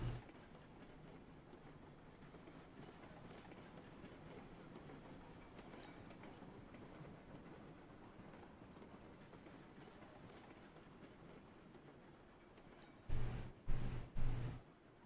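A train rolls along rails in the railway game Railroads Online, giving a steady, faint rumble throughout, with a few louder bursts near the end.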